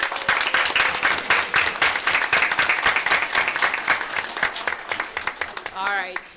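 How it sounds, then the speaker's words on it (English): An audience at a school board meeting claps for school staff, sustained applause with some voices in the crowd, and it tapers off as a speaker's voice comes in at the end. "we want to applaud our staff members for being here."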